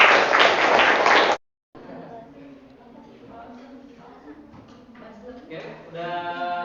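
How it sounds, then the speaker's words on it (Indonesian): Classroom applause, a dense burst of clapping from students that lasts just over a second, ends abruptly, and gives way to quiet talking. "Kasih tepuk tangan"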